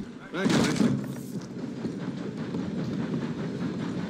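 A train in Red Dead Redemption 2 rumbles past with a loud whooshing swell at first, then a steady rolling clatter, while people talk over it.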